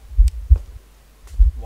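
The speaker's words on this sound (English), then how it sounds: "I can hear heartbeats" Pounding heartbeat in the horror game Slender on the 7th Street map, with deep low thumps in paired beats, then another beat after a pause. It is loud and close, with a faint voice briefly at the end.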